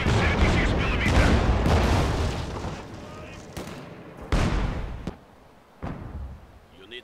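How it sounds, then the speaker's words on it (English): A 76 millimeter gun fires repeatedly in the Company of Heroes battlefield, heavy booming shots with rumbling tails, some overlapping, loud and close. "Firing 76 millimeter!"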